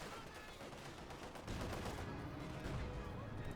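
Machine gun fire from a Company of Heroes 2 battle, a dense rattling barrage that swells louder midway through, with faint talk underneath.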